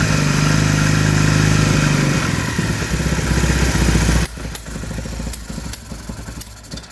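A 1962 Triumph Speed Twin Bathtub motorcycle kicks over and fires on the first try, its engine catching into a loud, steady, close idle that drops in pitch and settles into an uneven, popping run.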